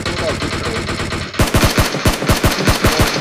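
Gunfire in PUBG Mobile erupts midway as a rapid, loud burst of repeated shots after a stretch of game background noise, with a voice faintly present.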